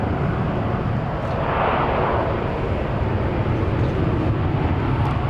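An arriving Uzbekistan Airways airliner roars at Incheon Airport in Seoul. A loud, steady broadband engine wash holds throughout with no voices.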